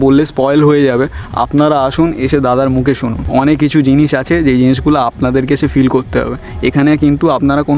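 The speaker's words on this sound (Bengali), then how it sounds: "শুধু ঝিঝি পোকার ডাক" Crickets chirp in a steady high drone at night beside an abandoned haunted mansion near Kolkata, heard faintly beneath someone talking loudly and continuously close by.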